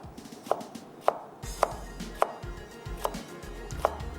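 A knife slicing tomatoes thinly on a board, seven evenly spaced crisp chops about half a second apart, close and clear over a low background hum, with no talking.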